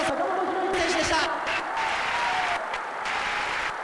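A large crowd at Yokohama Arena cheers and applauds boxer Hiroyuki Sakamoto after a lightweight bout, a dense roar of clapping and shouts with a ringside announcer talking over it.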